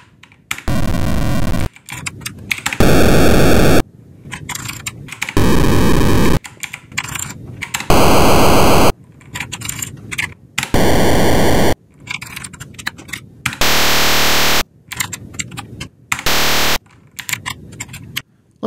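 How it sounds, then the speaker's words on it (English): A Commodore Plus/4 sound channel 3 emits a series of loud electronic bursts, hissing white-noise blasts alternating with buzzy tones, each lasting about a second and separated by short gaps and keyboard clicks. "any numbers between 600 and 940 will create that white noise."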